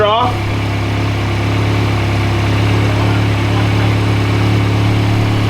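A VW GTI with a freshly installed CTS turbo intercooler idles steadily and loudly up close, a constant low drone with a slight leak present; a brief voice sounds at the start.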